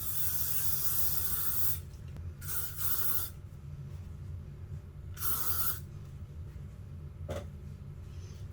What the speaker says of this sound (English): This is a L'Oreal Elnett Satin. It's such a good hairspray